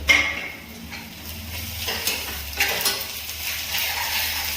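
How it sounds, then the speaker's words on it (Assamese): Crushed ginger and garlic fry with browned onions in a chicken curry pan, a steady sizzle under repeated metal scrapes and clinks of a spoon stirring against the pan, close and moderately loud. "আমি ইয়াতে দিম এতিয়া খুন্দি থোৱা আদা নহৰু।"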